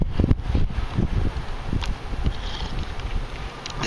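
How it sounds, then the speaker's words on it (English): Wind buffets a microphone in uneven gusts, a muffled low rumbling roar with no voices. "it's windy"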